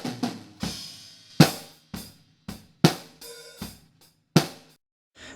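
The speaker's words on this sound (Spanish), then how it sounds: "el micrófono de abajo del redoblante, suena así." A snare drum picked up by the microphone beneath it in a recording studio, a series of crisp, rattling hits at an uneven rhythm, each with a short buzzy decay, loud and close.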